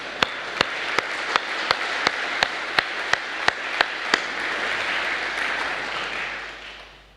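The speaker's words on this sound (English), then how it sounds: "let's clap" Brief welcome applause from a conference audience at a summit opening in Dresden, a broad wash of clapping running steadily for several seconds, with a regular series of sharp, distinct claps standing out near the front before it fades.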